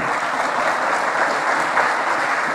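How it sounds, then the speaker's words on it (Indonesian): Steady, dense audience applause filling a hall at a religious talk, sustained and even with no voices over it. "Tepuk tangan."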